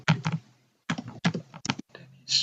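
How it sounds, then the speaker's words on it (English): Bursts of typing on a computer keyboard while entering details into a document, quick clusters of close, crisp key taps separated by short pauses. "Then I type the details."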